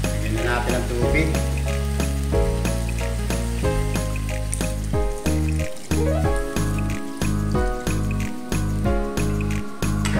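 Water is added to chicken frying in a pan, giving a loud, continuous sizzle with stirring under steady background music.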